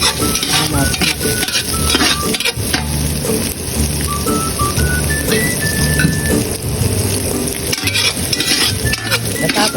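Chicken feet frying in a pan while being stirred, with loud crackling sizzle and repeated metal utensil scrapes and clinks throughout, close and busy.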